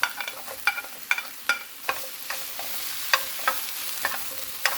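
Eggplant stir-frying with onion just added to the pan, a soft sizzle broken by a series of sharp, irregular scraping clatters as a utensil tosses the vegetables, close and clear, with no talking.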